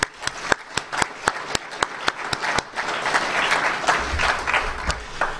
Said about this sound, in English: Let's give Healthy for Life a round of applause